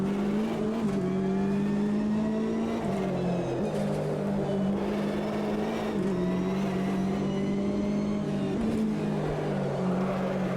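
Sustained GT race car engine from the Automobilista 2 sim racing game, a loud steady drone with shifting pitch as revs rise and drop through gear changes, running continuously without talk.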